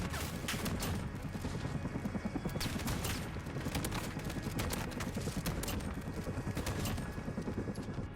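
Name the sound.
gunfire in video game Call of Duty Modern Warfare survival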